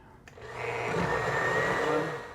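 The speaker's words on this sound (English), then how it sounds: "blender run for about 2 minutes, and it's got a pretty good consistency" A blender runs continuously on a steady whir, puréeing amarillo pepper paste with cheese sauce for papas a la huancaína, and the motor hum rises and then eases slightly toward the end.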